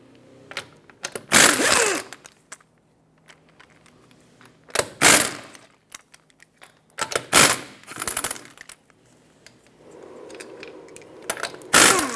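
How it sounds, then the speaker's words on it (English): Lug nuts come off the front wheel of a 2014-2021 Mazda 6 with a 21mm socket, heard as several close bursts of ratcheting and metallic clatter separated by quiet gaps. "Use your 21mm socket to remove all 5 of your lug nuts and then remove the wheel."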